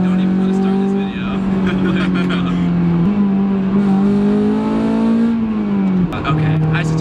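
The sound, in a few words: Honda S2000 AP2 sports car engine revving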